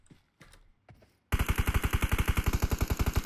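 Rapid automatic gunfire in the video game PUBG, a close, loud burst of evenly spaced shots firing in a fast rhythm, preceded by a few faint scattered sounds.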